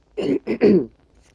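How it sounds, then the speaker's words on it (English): Someone narrating exploration in the game 7 Days to Die clears their throat close to the microphone, three rough bursts in quick succession with the last one longest, followed by quiet. "Sorry if I have to keep on clearing my throat, by the way."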